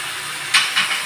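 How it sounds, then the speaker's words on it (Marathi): Water from a mixer jar hits a hot pan in two brief bursts of hiss and steam over a steady sizzling background, close and fairly loud. "मिक्सरच्या भांड्यातलं पाणी टाकलं आहे."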